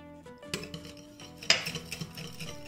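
A spoon clinks and scrapes against a bowl while stirring a teaspoon of sugar into a yeast mixture for garlic cheese bread. A few light metallic taps, one sharper, sit over a soft, steady tonal hum.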